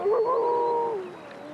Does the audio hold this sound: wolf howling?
yes